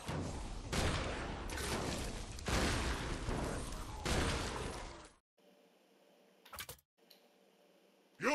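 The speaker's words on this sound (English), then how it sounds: "Compensate for your lack of accuracy with this shotgun-style weapon, which sets enemies on fire!" A shotgun-style fire weapon in the Sunset Overdrive video game blasts in several loud, dense bursts over about five seconds, followed by a quieter stretch with brief clicks and a sharp final hit.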